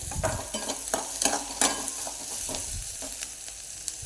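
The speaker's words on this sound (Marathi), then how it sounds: "असा कांदा हलवत राहायचा कारण तो जळाला नाही पाहिजे" Onion being stirred and fried in a pan while preparing a simple Maharashtrian matki (moth bean) curry, with steady sizzling and repeated scraping strokes of the spoon, close and clear, no talking.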